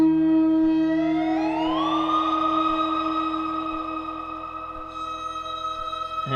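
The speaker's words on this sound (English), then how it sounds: "What we're hearing right now in the background is the Mimeophone doing a delay from way in the past" A Mimeophone delay repeats a sample from far back at higher pitch, rising in a smooth tonal sweep and then holding a steady sustained tone, set over a quiet rhythmic pulse in an ambient Teletype patch.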